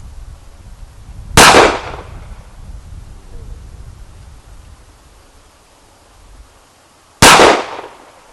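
Two loud, sharp gunshots from a Jimenez Arms JA Nine 9mm pistol ring out several seconds apart outdoors, each with a short decaying echo.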